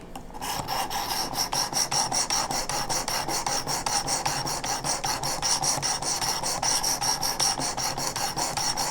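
A file rasps steadily across the edge of a hunting arrow broadhead to sharpen its bevel, with close, loud strokes repeating in an even back-and-forth rhythm.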